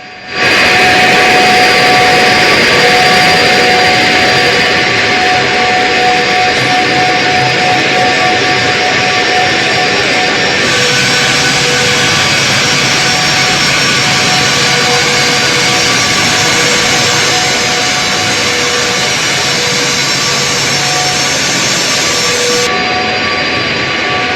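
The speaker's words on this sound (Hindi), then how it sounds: "पुतिन जब लैंड हुए हैं तो सबकी नजरें पुतिन के इस विमान पर थी" Loud, steady roar and high whine of a jet engine from Putin's aircraft, the Flying Kremlin, close by and continuous throughout with no voices.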